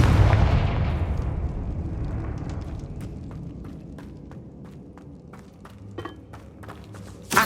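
A Confringo spell blast in Hogwarts Legacy bursts loudly at the start inside a tomb, its heavy rumble decaying slowly over several seconds while faint crackles and debris ticks scatter through the tail.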